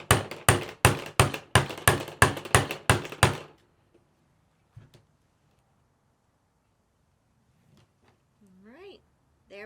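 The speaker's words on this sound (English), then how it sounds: "Then your hammer, and give it a few good whacks." A hammer strikes a rivet setting tool on a leather strap about eight times in quick, even succession, loud and close. The blows then stop, followed by quiet handling noises and brief talk.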